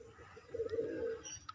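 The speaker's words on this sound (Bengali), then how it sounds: "আমার বিডার পায়রা" A pet breeder pigeon coos in a low, throaty run of soft notes, close and fairly quiet, with faint chirps behind it.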